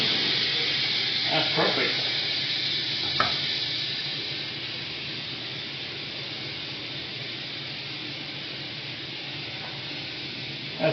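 Pork tenderloin sears in a hot pan with a steady, loud hiss of sizzling fat lasting throughout, a few brief clatters early on, and someone talking briefly over it.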